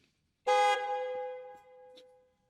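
A single loud car horn blast with strong reverb added in FL Studio, its tone hanging and slowly fading in a long echoing tail.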